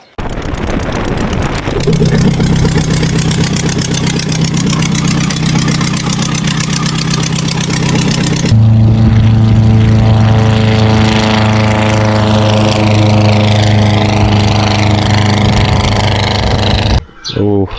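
A light private propeller aircraft in flight: its engine gives a loud, steady, buzzing drone that fills the whole stretch, shifts in tone midway and cuts out briefly near the end.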